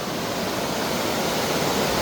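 A river near Dehradun, coming from Sahastradhara and swollen after hours of morning rain, rushes with a loud, steady broadband roar, close and continuous with no voices.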